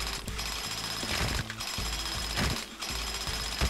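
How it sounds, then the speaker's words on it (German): A jackhammer in the video game Scribblenauts Unlimited, a loud continuous rapid pounding rattle that keeps going with only brief dips in intensity. "nehme ich den Presslufthammer aus der Werkzeugkammer und dann mache ich Krach"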